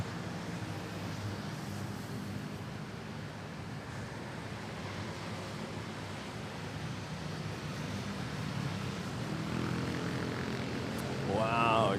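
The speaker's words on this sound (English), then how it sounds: "it was a nice smooth takeoff by the Philippine Airlines" A Philippine Airlines airliner takes off from Manila Airport and passes overhead, a broad, steady jet roar heard from a distance that swells slightly toward the end.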